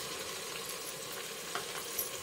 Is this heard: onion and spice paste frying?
yes